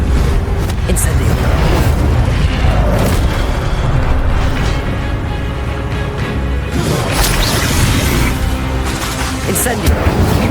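Incendio fire spells and combat in Hogwarts Legacy come as a loud, dense barrage of booming blasts, crashes and rumbling impacts with flaring bursts of spellfire, continuous throughout, with voices mixed into the chaos.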